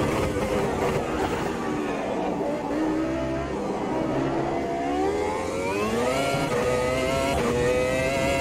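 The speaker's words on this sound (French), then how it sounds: "Mais ce V10, hein, quel son!" A V10 race car engine in Automobilista 2 at Monza screams continuously, its pitch climbing and dropping through gear changes and sweeping upward again near the end, loud and close throughout.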